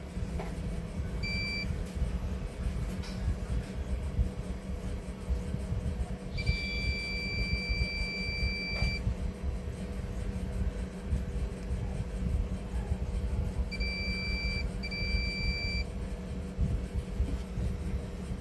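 Multimeter in diode mode beeping while probing a MOSFET on a Samsung 32-inch smart LED TV power supply board: a short beep near the start, a sustained tone of about three seconds midway, then two brief beeps, over a steady background hum.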